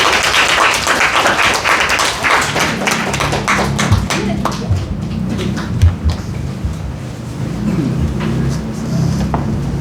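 An audience applauding a teacher at a lecture, a dense crowd of clapping that is loud at first and thins gradually into scattered claps.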